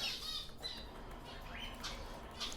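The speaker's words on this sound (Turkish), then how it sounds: "Burada kendi aldığım muhabbet yavrularım var." Young budgerigar chicks in a cage giving short shrill squawks and chirps amid soft wing flutters, faint and close, scattered irregularly across a couple of seconds.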